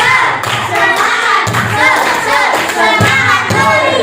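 Children in a classroom clap together in a rhythmic clap chant, loud, close bursts of synchronized claps and thumps separated by short pauses, with shouting voices over the beat.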